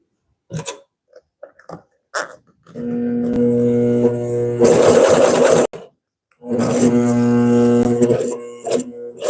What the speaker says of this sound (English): I'm going to try to resume top stitching in the same hole